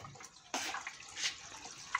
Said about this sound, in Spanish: Tiramos agua.